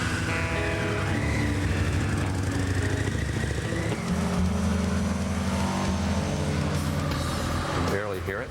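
A quiet motorcycle engine rated at about 110 horsepower runs with a smooth, continuous hum, heard close and steady beneath a narrating voice.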